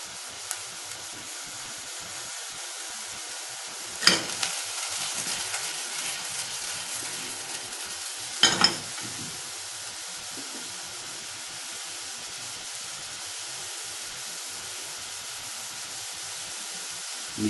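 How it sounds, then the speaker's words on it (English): A soft, steady hiss of water sizzling in a hot pan as cauliflower is dried out for cauliflower cheese, with two brief louder crackling bursts partway through. "That's the water sizzling."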